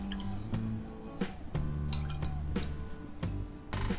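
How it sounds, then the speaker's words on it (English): Milk poured and stirred with cornstarch and cocoa powder in a small bowl, with close clinks of a spoon against the dish and liquid drips and splashes in irregular bursts. "Then combine the cornstarch and cocoa powder with some milk."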